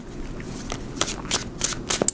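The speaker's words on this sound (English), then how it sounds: "Two more shuffles, 8-card spread." A deck of tarot cards being shuffled by hand up close, a series of quick riffling bursts with crisp flicks and snaps.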